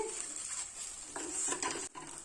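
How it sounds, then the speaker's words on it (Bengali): An egg frying in a pan at home, with a steady bright sizzle throughout and a few soft scrapes and clinks of a spatula against the pan, close and fairly quiet. "একটু ডিম ভাজা করে নিচ্ছি"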